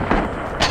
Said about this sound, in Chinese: 炮击开始